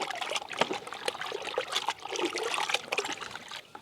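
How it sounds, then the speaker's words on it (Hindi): Water with a little turmeric stirred briskly for a homemade plant soil mix, giving a steady close trickling, sloshing churn that runs without a break and carries no voices. "इस तरह से थोड़ी सी हल्दी मिक्स कर लेंगे और खूब अच्छे से इसे मिला देंगे।"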